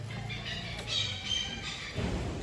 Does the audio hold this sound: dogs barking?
no